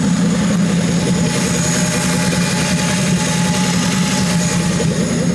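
A Crown Victoria V8 with its supercharger removed runs with a loud, steady, rumbling idle and vibrating throb, close and continuous throughout with no talking.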